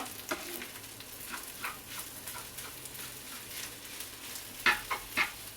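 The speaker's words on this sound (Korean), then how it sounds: "일단 미리 밥을 이렇게 좀 볶아놓고요" Rice being stir-fried in a pan, with a low, continuous scraping and soft sizzling throughout and a few sharper scrapes of the utensil near the end.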